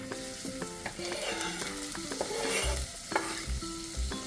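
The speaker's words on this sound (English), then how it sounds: "So I can take my onions now and add it to this hot oil" Onions hit hot oil for poha, giving a continuous crackling sizzle with occasional stirring scrapes, partly covered by background music.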